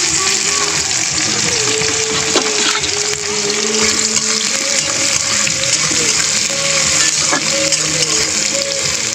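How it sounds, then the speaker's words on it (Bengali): Chopped onions fry in oil in a wok, giving a loud, dense, continuous sizzling hiss up close with faint clatter and tonal background sounds mixed in. "এখানে কড়াই বসিয়ে তেল দিয়ে দিয়েছি। তেলে দিয়ে দেবো কুচানো পেঁয়াজ।"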